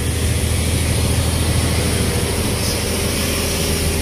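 A boat engine runs as a loud, steady low drone with constant broadband noise, heard alone without any talk.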